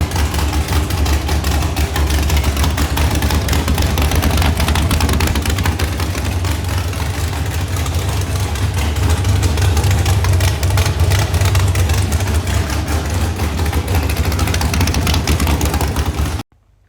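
LS3 V8 swapped into a 1951 Ford Shoebox, running steadily close by with a deep, loud idle and a low rumble that holds through the whole stretch before cutting off abruptly near the end.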